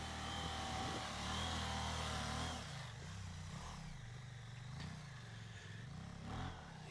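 A motorcycle rides up nearby, its engine droning loudly and then easing to a lower, uneven rumble as it approaches and slows.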